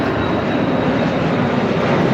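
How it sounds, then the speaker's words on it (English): An airplane passes overhead during a heavy storm, a loud unbroken roar that fills the whole stretch without letting up. "There's a plane going by."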